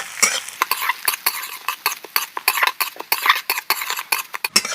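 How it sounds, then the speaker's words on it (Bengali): Mung dal fries in mustard oil in a wok while a spatula stirs it briskly, giving a dense, close, rhythmic scraping and clatter over a continuous sizzle. "মুগের ডালটা আমি 2 থেকে 3 মিনিট মতো নাড়াচাড়া করে ভেজে নেব।"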